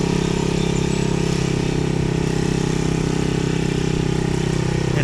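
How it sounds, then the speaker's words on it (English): A moped engine runs steadily throughout, a loud, close buzzing drone with a continuous mid-pitched hum and no pauses, heard on its own without talk. "let's see if I can't park the moped over here"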